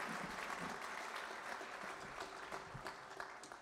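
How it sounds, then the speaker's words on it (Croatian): Applause from the audience at a spiritual music festival in Zadar, a continuous wash of clapping heard from some distance and fairly quiet, with scattered individual claps. "pozdravimo ga još jedan puta jednim velikim pljeskom"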